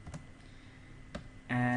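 Keys on a computer keyboard struck sparsely, a few separate clicks spread across a quiet room, with a brief hum at the end.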